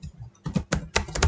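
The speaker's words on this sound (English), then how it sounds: "here just type here Elementor" Fingers type a short burst on a computer keyboard, a quick run of close, crisp key clicks with uneven spacing and no speech.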